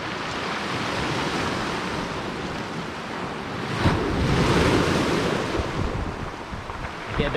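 Sea waves wash over rocks on a Cornish beach at Kennack Sands, a steady broadband rush of surf and rattling stones that surges louder midway as a wave breaks and draws back, with some wind noise on the microphone.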